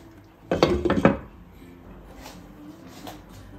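A metal lid clatters onto a cooking pot of monggo (mung bean stew) with bitter melon, a quick cluster of close, bright clanks followed by a soft lingering hum.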